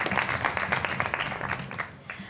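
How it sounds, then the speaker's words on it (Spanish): Audience applause at a final gala show, dense steady clapping from a crowd that tapers off toward the end. "Un aplauso para ella."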